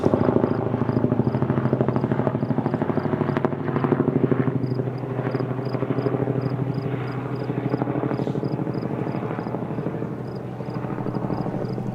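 A steady, loud rotor drone from a helicopter throughout, with a pulsing low thrum and a thin high whine, fairly constant in level.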